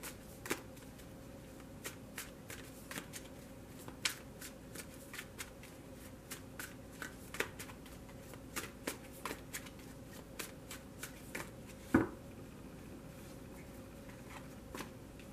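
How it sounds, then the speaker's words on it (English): Soft, irregular shuffling of a tarot card deck, papery riffles and taps repeating quietly over a faint background hum, with one sharper snap near the end. "I'm only going to shuffle it for a moment."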